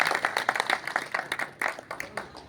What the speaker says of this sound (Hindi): तालियों से उनका स्वागत